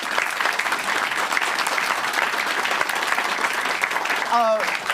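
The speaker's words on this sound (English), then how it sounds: "give Sebastian a round of applause for that?" A conference audience at a games industry keynote applauds Sebastian, dense continuous clapping from many hands filling the room, with a brief voice breaking in near the end.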